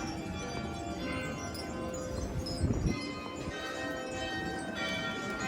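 A carillon of 47 church bells rings across a Frankfurt Christmas market at night, bright tones layered over a dense, continuous crowd murmur and market bustle.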